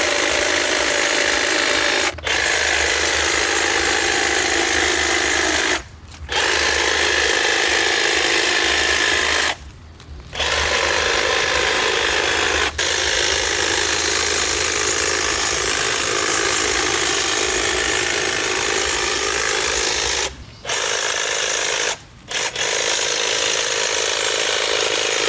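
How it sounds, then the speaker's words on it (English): A power hedge trimmer buzzes steadily while cutting overgrown bushes on a neglected property, running in long stretches broken by a few short pauses as the blades stop and restart. "I'm excited to trim up these bushes"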